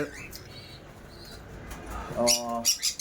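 Caged cockatiels give short, sharp chirping calls near the end, following a stretch of low background murmur with a voice faintly present.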